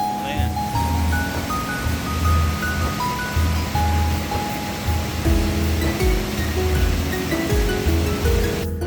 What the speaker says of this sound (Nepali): खोला ठुलो त होइन, तर बेग धेरै छ